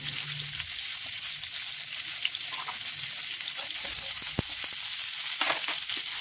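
Onion and green chillies fry with mustard seeds in hot oil, giving a continuous bright hiss with occasional small pops and crackles throughout, close and steady.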